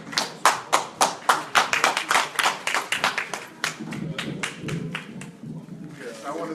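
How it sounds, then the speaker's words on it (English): Audience at a community elders' convening claps in a rhythmic burst of distinct, fairly close handclaps that thickens into general applause and then thins, with some murmuring underneath. "So, round of applause, Brother Davidi, please."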